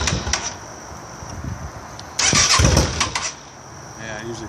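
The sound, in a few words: Yamaha V-Star 650 motorcycle engine cranking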